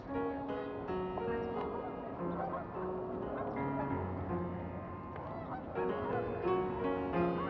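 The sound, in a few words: geese honking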